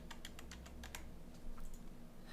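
Typing on a computer keyboard while entering numbers into an Excel spreadsheet: a quick, quiet run of light key clicks, evenly spaced, over a low steady hum with no talking.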